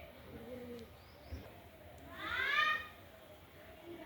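Pigeons coo softly outdoors on a hot, still day near where rice and water are set out. A quiet background is broken by one brief, clearer coo midway.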